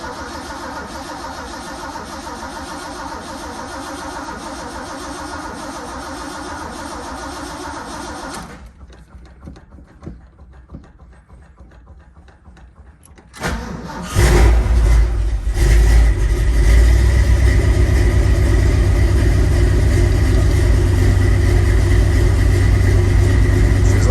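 A carbureted engine, cold, cranks through a stretch of starter whirring, goes quiet briefly, then catches with a loud close burst and settles into a steady, rough idle.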